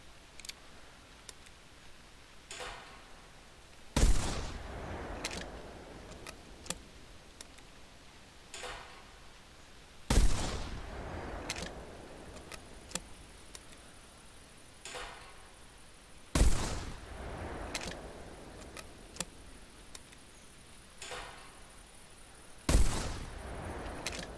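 Shotgun blasts in the hunting video game theHunter Classic, four loud sharp shots spaced roughly six seconds apart, each with a short decaying tail, over quiet background ambience.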